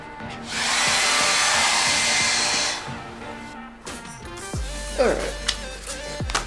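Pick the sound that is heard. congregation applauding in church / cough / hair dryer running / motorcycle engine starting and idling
hair dryer running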